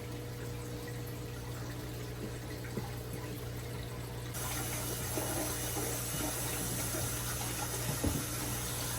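Water pouring into a 75 gallon aquarium, a steady rushing wash with a low pump-like hum beneath, becoming fuller and louder partway through with a few small splashes near the end.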